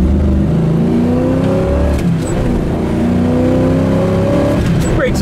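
A 1969 Nova's engine revs hard and accelerates loudly and close, pitch climbing steadily, with a brief squeal of tires breaking loose near the end.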